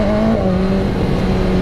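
A BMW S1000R motorcycle engine revs steadily and loudly up close, holding a sustained high-pitched tone for a short burst.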